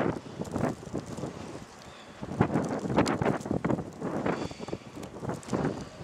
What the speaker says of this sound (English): wind's picking up now